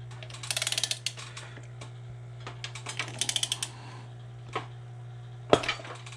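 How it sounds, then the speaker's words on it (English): A wrench ratchets on the flywheel nut of an old, once-seized outboard motor: quick bursts of close metallic clicks, repeated several times with pauses and one sharper clank near the end, over a steady low hum. "tried to use a wrench on the flywheel nut, but I just couldn't get it"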